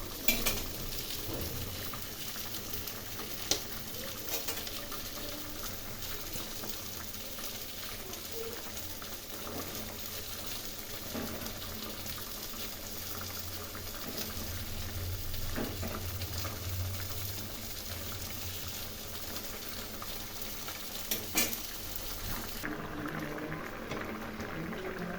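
Fish curry simmering under a lid on a low gas flame, a faint continuous bubbling hiss with occasional soft clicks, steady and quiet throughout before stopping near the end.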